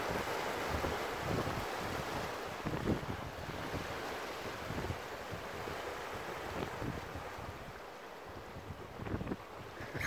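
Waves roll and break on a beach at partial tide in December, with wind buffeting the microphone in a continuous rough roar and periodic surges of surf.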